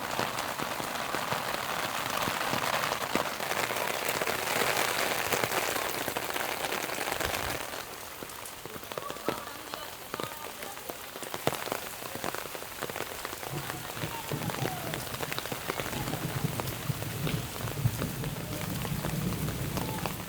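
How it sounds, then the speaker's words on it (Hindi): Heavy rain pours steadily in a village in Punjab, Pakistan, a dense hiss of drops hitting surfaces all around, with occasional louder splashes close by; no voices. "बारिश पहले से भी तेज़ हो चुकी है"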